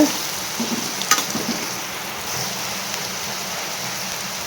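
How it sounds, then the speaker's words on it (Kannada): Garlic and ginger paste fries in a pan with a steady, rain-like crackling sizzle, a few sharper pops early on, close and without speech. "ಮತ್ತು ಬೆಳ್ಳುಳ್ಳಿ ಹಸಿ ಶುಂಠಿ ಪೇಸ್ಟ್ ಹಾಕತ್ತೀನಿ. ಸ್ವಲ್ಪ ಹುರ್ಕೋಬೇಕು"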